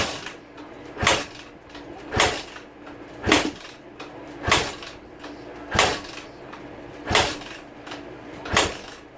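Kawasaki KX250F dirt bike being kick-started without firing: eight repeated kicks at an even pace of about one every one and a half seconds, each a sharp mechanical thump with a short scrape, in a quiet shop.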